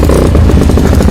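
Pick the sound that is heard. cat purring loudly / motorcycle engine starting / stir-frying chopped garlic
motorcycle engine starting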